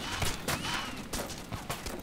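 Bursts of gunfire in the video game Arma, several sharp shots in quick irregular succession, moderately loud, with no speech over them.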